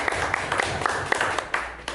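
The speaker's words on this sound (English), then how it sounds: "A round of applause if y'all don't mind." A brief burst of clapping from a small meetup audience welcoming a panel, with close, scattered hand claps over a continuous crowd wash.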